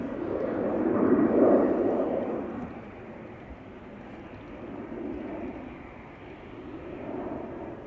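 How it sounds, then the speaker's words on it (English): A KLM Embraer 190 jet in SkyTeam livery departs Amsterdam Schiphol, its engine roar swelling loud and close early on, then easing into a steadier, more distant rumble. "This was the KLM Embraer 190 in the SkyTeam livery."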